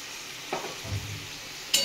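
Turmeric, cumin and chili powder sauté in oil in a pan, a quiet close sizzle broken by a couple of brief stirring scrapes, with no talk.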